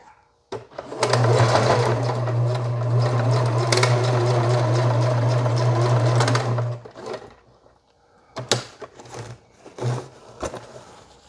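An electric sewing machine stitches elastic onto a beer box cowboy hat in one long steady whirring run of about six seconds, then a few short bursts follow after a pause.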